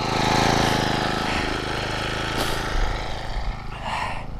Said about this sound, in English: Always good for your motor to let it run a few minutes.